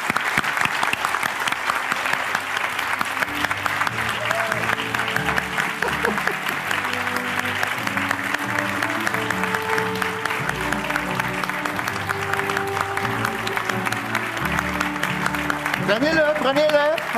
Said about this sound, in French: on doit commencer cette cérémonie-là en donnant une bonne main d'applaudissement à nos finissants